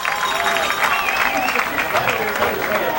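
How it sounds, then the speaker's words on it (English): Big crowd in packed home stands at a 1997 Haddon Heights vs Paulsboro high school football game cheers and claps in a steady, dense roar, with voices talking over it throughout. "Big crowd here."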